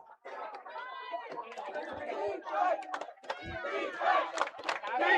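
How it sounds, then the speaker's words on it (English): A high school football crowd roars and shouts to urge on the home defense late in the fourth quarter, a dense mass of overlapping voices swelling in bursts with chatter in between. "so Greyhounds crowd trying to cheer on the defense."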